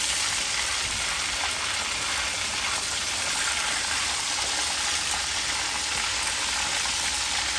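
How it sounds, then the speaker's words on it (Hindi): Fish frying in a pan makes a constant, moderately quiet hiss and sizzle throughout, with no voices over it. "इसमें मच्छी फ्राई कर रहा है"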